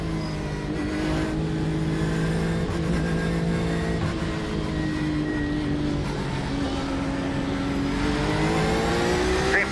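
Porsche GTE race car in the iRacing simulator, its engine droning steadily at high revs through the whole stretch, pitch sliding up and down with gear changes, loud and close with no talk.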